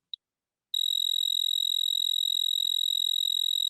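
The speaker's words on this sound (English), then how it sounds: "And this is the sound of an unsexy cricket." A synthesized male cricket song at a slower pulse rate: a single brief chirp, then a sustained, high, pure-toned trill with clearly separated, evenly spaced pulses, heard alone and fairly loud.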